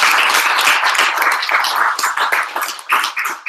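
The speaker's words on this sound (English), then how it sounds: "if you can all give everyone a round of applause" A live audience at an entrepreneur social event in Manchester breaks into a dense, sustained round of applause, many hands clapping loudly and close together throughout with no talk over it.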